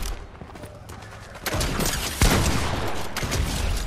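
A turret opening fire during a Fortnite match: rapid bursts of gunfire that begin after a quieter stretch and then continue in dense, loud volleys with a few sharper heavy cracks.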